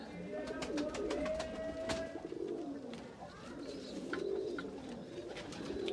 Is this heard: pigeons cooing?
yes